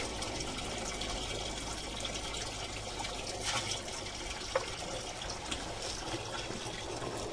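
Liquid pesticide poured by the capful while preparing mango trees makes a quiet, continuous trickling, pouring sound with a faint splash midway and one small knock; no one speaks.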